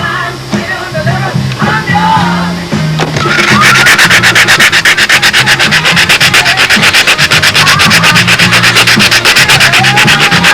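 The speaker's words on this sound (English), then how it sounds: "It's always easier just to sand this extra down with an ordinary sanding block." Steady, rhythmic rubbing of a sanding block on carved wooden model airplane wing tips, fast back-and-forth strokes close by, starting lighter and then growing loud and continuous.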